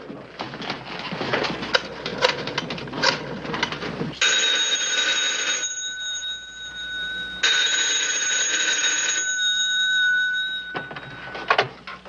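A telephone rings in a highway patrol office, with two long bursts of bright, steady electric ringing separated by a short pause, after busy background noise.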